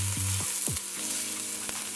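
Garlic and chopped pimento pepper fry in a pan, a steady, dense sizzle, close and loud, with a few soft clicks of stirring over it.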